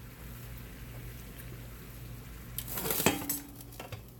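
A rice pot is shifted across a home stove, a short cluster of metallic clanks and scrapes peaking near the middle over a low steady kitchen hum.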